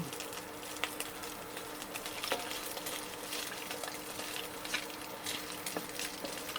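Spam slices fry in a pan with a steady, soft sizzle and crackle and occasional faint pops, heard alone at close range.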